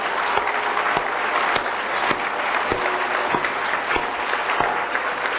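A ceremony audience gives sustained applause as the 2015 Aspen Prize for Community College Excellence is presented to a college president. Steady, dense clapping from a large crowd fills the room, with a few sharper individual claps standing out.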